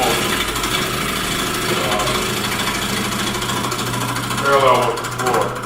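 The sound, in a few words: woodturning chisel cutting a natural edge bowl on a lathe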